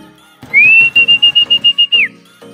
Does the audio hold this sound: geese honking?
no